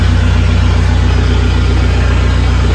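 Car engine with a stock exhaust idling steadily up close, giving a loud, even putt-putt pulse like a tractor, with no voices over it.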